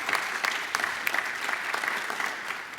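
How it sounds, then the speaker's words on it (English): Enthusiastic applause from an audience at a Constitution Day lecture event, a dense patter of clapping hands continuing throughout. "So give yourselves a nice round of applause."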